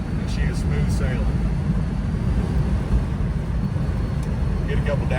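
A 1968 Shelby GT350 convertible with a four-speed cruises at about 55 mph, giving a steady, dense rumble of engine, road and wind noise throughout, with someone speaking faintly over it.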